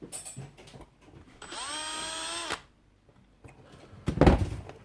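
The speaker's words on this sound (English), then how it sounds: "I'm going to just drill straight into the handle" A power drill whines steadily for about a second, drilling into a broken coffee pot handle, close and loud, ending abruptly, with a clatter of handling noise before and a brief bump afterward.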